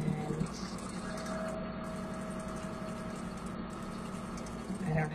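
A sewing machine hums steadily while stitching half square triangles for a quilt, a close, continuous motor drone with a brief pause near the end.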